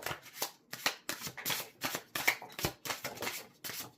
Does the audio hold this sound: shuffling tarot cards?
yes